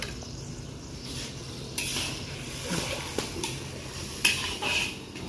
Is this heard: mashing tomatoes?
yes